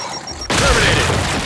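A frag grenade goes off in Gears 5 as a sudden loud, close blast partway through, followed by a broad roaring rumble and debris noise that fades slowly; a quiet lead-in comes before it.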